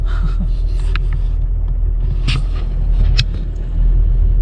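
Steady low engine rumble fills the cabin of a moving, nearly empty bus on a coach route from Durrës in Albania to Ohrid in North Macedonia, continuous and close, with road noise and no talking.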